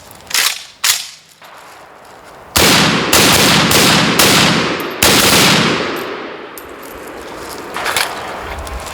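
An RPK light machine gun fires loud, sharp shots outdoors: two separate rounds, then a dense string of bursts with a few echoing single shots afterward.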